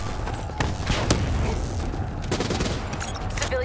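Continuous gunfire in Call of Duty Black Ops 3 during the Lotus Towers mission, dense overlapping shots and booms filling the whole stretch at close, loud level with no pause.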